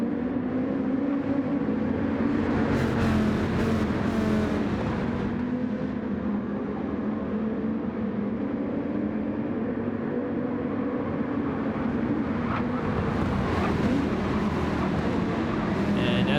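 Race cars engines drone steadily in a racing game at Fuji Speedway as one car takes the inside into turn 10 and overtakes, a continuous loud mixed engine roar with brief higher whines.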